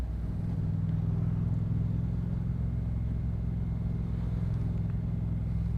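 Dense road traffic hums around a Yamaha MT-07 motorcycle on a Bay Area commute, a steady low rumble of engines and tires that holds evenly throughout without talk.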